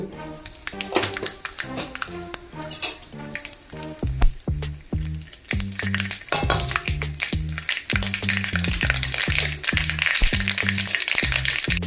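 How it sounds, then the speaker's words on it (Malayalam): Mustard seeds splutter and crackle in hot oil with dense, sharp popping and a loud sizzle. Heavy background music plays throughout. "എണ്ണ ചൂടായി ആവശ്യത്തിന് കടുക്"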